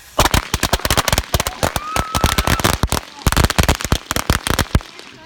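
A dense, rapid string of loud New Year firework bangs and crackles pops off continuously at close range for several seconds.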